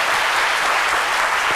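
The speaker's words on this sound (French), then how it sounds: "Merci d'applaudir le doyen" A studio audience on a French daytime talk show claps steadily and densely for an elderly guest, a full, close wash of applause that carries evenly through the whole moment.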